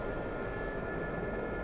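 A Gazelle helicopter hovering in the DCS flight simulator, giving a steady, even turbine and rotor roar that stays constant and fairly quiet throughout with no other sounds.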